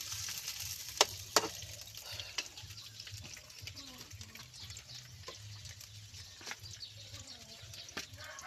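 Hot cooking oil sizzles and crackles over a wood fire in a rural outdoor kitchen, a low continuous hiss broken by sharp pops and stirring scrapes, with a steady low hum beneath.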